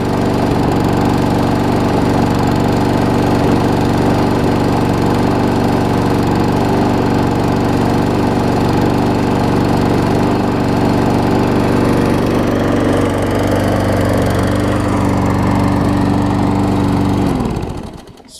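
Troy-Bilt TB230 self-propelled push mower engine running after a carburetor cleaning, a loud, steady droning idle with a slight uneven blip that holds for many seconds before cutting off abruptly at the end.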